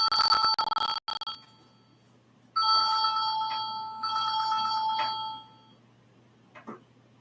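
A phone rings indoors with bright, bell-like electronic trills in repeated bursts separated by pauses, loud and close, followed by a brief faint tone at the end.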